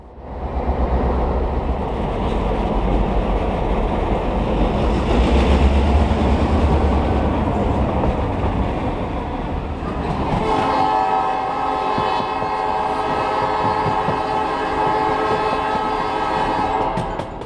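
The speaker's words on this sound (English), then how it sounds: "our passenger train is starting on its way to Two Harbors." A steam passenger train leaving Duluth for Two Harbors rumbles heavily and continuously at first, then a long, sustained horn sounds over the rolling train noise.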